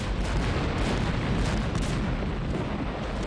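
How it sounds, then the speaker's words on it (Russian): Massive ammunition magazine explosion aboard the battlecruiser HMS Hood after a shell from Bismarck strikes it in a WWII naval battle, heard as a continuous roaring, rumbling blast filling the whole span, loud and dense with no voices. "Снаряд попал в склад боеприпасов, вызвав взрыв огромной разрушительной силы."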